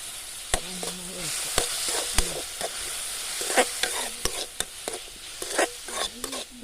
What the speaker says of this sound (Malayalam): എന്നിട്ട് നന്നായി ഇളക്കി കൊടുക്കുക